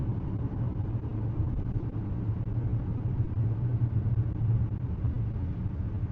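Acura MDX engine rumbling steadily from inside the cabin as the SUV accelerates out of sport mode, a low continuous drone with road noise and no talking.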